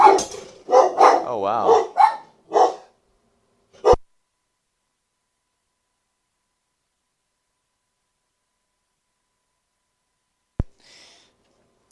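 A dog barks at the mailman in a home, a few sharp close yaps at the start mixed with a person's exclamation, then silence.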